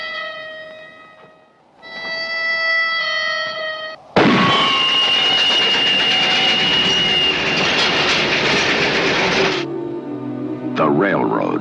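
A passing train roars past, a loud, dense rumble with a rattling clatter that sits between swells of orchestral music and a quiet voice.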